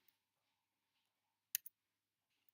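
A few quick, faint clicks as a number is keyed in on a ticket machine keypad, a close pair of taps followed by a single soft one, in an otherwise quiet space.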